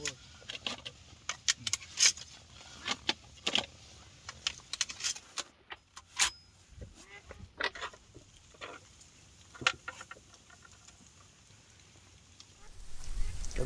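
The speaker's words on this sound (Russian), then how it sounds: "Криковые хорошо работают, подсадные," Live decoy ducks quack and call in scattered bursts during a duck hunt, faint and uneven, mixed with rustling and handling noises nearby.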